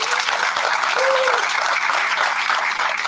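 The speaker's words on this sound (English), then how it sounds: "Let's give him a round of applause" Steady applause from a conference audience at a National Black Nurses Association gathering, welcoming the incoming president-elect; dense, even clapping fills the whole stretch with a brief whistle-like tone near the middle.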